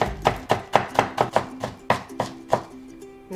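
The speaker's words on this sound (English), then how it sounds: "Push it to flatten and then thinly slice." A knife slices thinly through flattened cabbage leaves on a cutting board, about a dozen crisp, regular chops close by, each a sharp tap with a short crunch, no speech.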